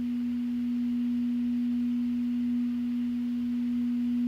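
A singing bowl rings with a single pure, sustained tone that holds steady and loud throughout, with faint background noise beneath and no voices.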